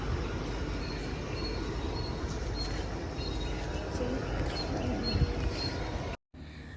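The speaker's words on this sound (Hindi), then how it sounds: "ये रहा स्टेशन।" Busy Indian railway station arrival after a train journey from Rameswaram toward Pondicherry, with a continuous low rumble of trains and faint metallic squeals amid crowd murmur, briefly cutting out near the end.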